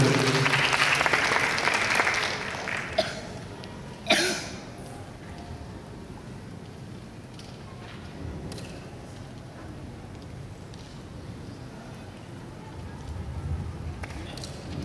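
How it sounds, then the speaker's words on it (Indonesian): Audience at a seminar claps for a few seconds, dense applause that quickly fades into scattered claps, a thump and low room murmur. "Beri aplaus kepada kesempatan kali ini."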